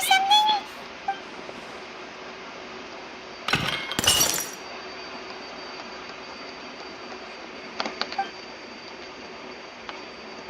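A vase shattering in the Genshin Impact video game, a sudden burst of breaking glass at mid-clip followed by a fainter tinkle later, set against a steady low background hum.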